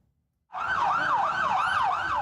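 An ambulance siren wails loud and close, its rising and falling tone sweeping repeatedly after a brief silence, with no voices over it.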